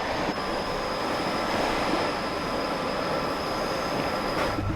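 A British Rail Class 86/2 electric locomotive in Train Simulator runs at about 95 mph on the West Coast Main Line between Preston and Carlisle, giving a steady, loud rolling rumble with a faint wheel squeal and no break in the sound.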